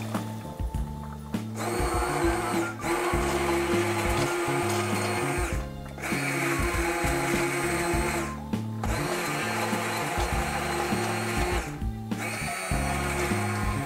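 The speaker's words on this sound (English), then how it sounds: "now it's time to mix them all up and shred them with this handheld shredder" A handheld blender purees cooked butternut squash soup vegetables in a pot, a loud continuous motor whir with a churning, chopping texture, pausing briefly three times before starting up again.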